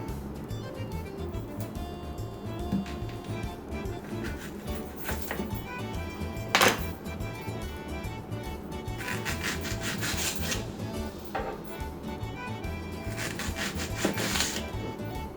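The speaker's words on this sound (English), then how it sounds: "now we cut the onion." A knife cuts an onion on a wooden board for an antipasto pasta salad, giving repeated close scraping and slicing strokes at a steady pace with one sharper knock midway, no talking.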